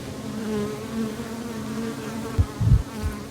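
Mason bees buzz with a low, wavering drone close by, rising and falling as they move, with a few soft bumps and rustles toward the end.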